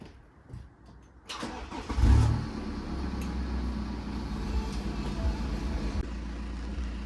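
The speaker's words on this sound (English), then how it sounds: "Started the engine up" A BMW F11 car engine cranks and catches with a brief surge, then settles into a steady idle close by, with the car raised on a jack.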